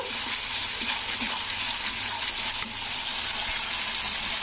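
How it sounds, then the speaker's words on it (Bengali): Steady, loud sizzling and bubbling of masala frying in a pan for katla kalia as hot water goes in, a continuous hiss without pauses. "মশলাকে একটু নাড়াচাড়া করে এর মধ্যে সামান্য একটু আমি গরম জল দিচ্ছি"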